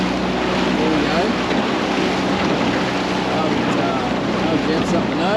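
A jet boat ride out on open water, a constant loud roar of engine, rushing water and wind buffeting the microphone, with voices faintly mixed in.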